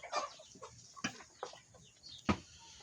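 Chickens clucking nearby in short, irregular bursts, a few sharper clucks standing out against quiet background.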